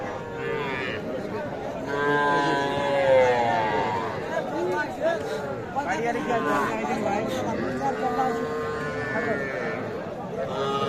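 Cattle and calves low and moo repeatedly amid a busy market crowd, with people talking and chattering nearby throughout.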